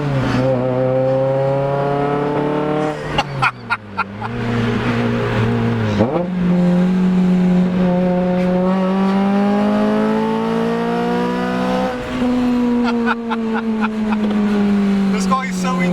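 Honda Civic Type R FN2 engine revving hard through VTEC lift, its loud, close tone climbing steadily in pitch over several long pulls, with brief gear-change dips between them.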